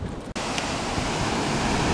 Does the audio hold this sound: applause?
no